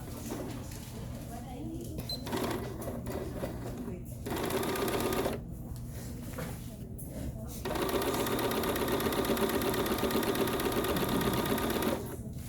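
A sewing machine runs in bursts while stitching a sleeve seam with a back stitch, its rapid needle rattle stopping and starting, a final longer steady run at the end, with a person talking in the pauses.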